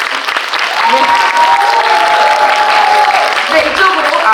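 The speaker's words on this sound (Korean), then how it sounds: "자, 여러분 뜨거운 박수로 맞아주세요." Warm, sustained applause from an audience at a Korean film screening Q&A as actors and the director are welcomed on stage, loud dense clapping with faint voices and whoops running through it.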